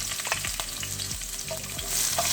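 Shallots with cinnamon, cloves and cardamom sautéing in a hot pan for chicken perattu, a loud continuous sizzle broken by repeated rhythmic scrapes of a spoon against the pan.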